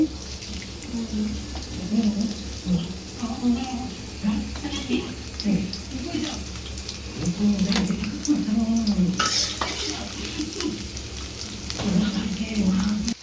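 Onions go into hot oil in a pan with a steady, close sizzling hiss that runs throughout, while a voice talks over the cooking.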